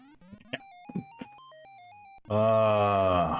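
Stepped electronic beeps and tones from the Atari 2600 game Kangaroo lead into a loud, harsh sustained buzzing tone at the end, consistent with the bell ringing.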